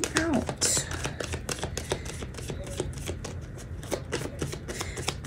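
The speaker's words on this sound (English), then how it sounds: "So many cards keep falling." Tarot cards being shuffled give a rapid series of crisp riffles and slaps, with several cards dropping loose, close and clear over a soft voice.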